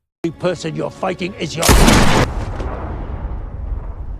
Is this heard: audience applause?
no